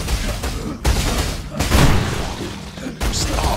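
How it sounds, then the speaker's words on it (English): Video game explosions in Path of Exile, a string of booming, thumping blasts and crashes going off in quick succession during combat against packs of enemies, loud and continuous. "More explosions."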